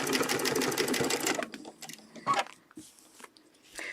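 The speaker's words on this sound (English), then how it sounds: "So I'm stitching up the spine." A sewing machine stitching the spine of a feather template: a rapid, even run of stitches for about a second and a half, then a few short clicks and handling noises close by.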